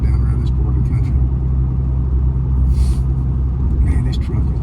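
A new diesel pickup truck rumbling along the road, low steady engine and road drone heard from inside the cab, continuous and fairly loud, with someone talking over it and occasional brief hissing bursts.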